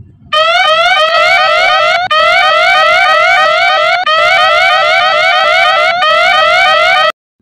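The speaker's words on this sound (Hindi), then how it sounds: "किस तरह से ये सायरन बजने लगा" A loud electronic anti-theft siren from a phone app, set off by a wrong password, wails continuously, its pitch sweeping up and down in a fast repeating cycle with brief breaks, then stops abruptly.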